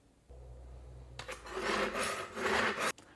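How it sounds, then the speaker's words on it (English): Sharpening steel rasping along the serrations of a Nihon X50 bread knife: after a low hum, a sustained scraping burst of strokes runs about two seconds, close and fairly loud, then stops abruptly. "you use a sharpening steel that fits inside the serrations on the knife itself"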